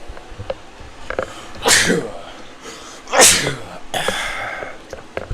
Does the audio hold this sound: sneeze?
yes